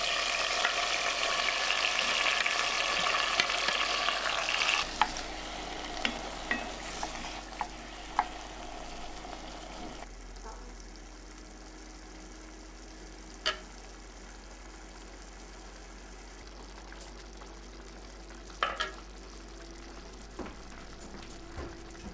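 About two pounds of roughly chopped tomatoes sizzle and fry in olive oil and garlic, a steady loud hiss that settles into a quieter simmer with occasional spoon stirs and clicks, no talking.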